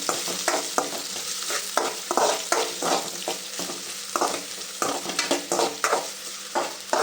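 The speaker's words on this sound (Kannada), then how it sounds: "ಈರುಳ್ಳಿ ಹಾಕ್ಕೊಂಡು ಅದು ಚೆನ್ನಾಗಿ ಫ್ರೈ ಆಗಬೇಕು ಈರುಳ್ಳಿ" Onions frying in a pan for egg rice crackle steadily while a spatula stirs them in quick, repeated scraping strokes, loud and close throughout.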